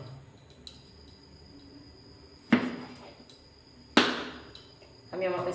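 A knife cuts tomato and vegetables on a board for chicken momo, giving two sharp, loud chops a couple of seconds apart followed by a softer scraping rustle, in an otherwise quiet kitchen.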